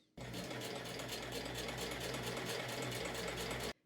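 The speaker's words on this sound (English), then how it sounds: "Then we're going to sew it alongside here, then zigzag stitch the other two raw edges." A sewing machine runs steadily, stitching a satin pant pocket and seam edge in one continuous, even burst of close, moderately loud whirring with no talk.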